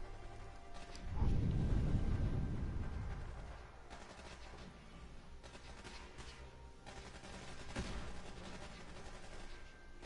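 Gunfire in the video game Fallout 4, a heavy burst of shots and rumbling blasts early on that fades into a lull of quieter, scattered distant fire, with no talking.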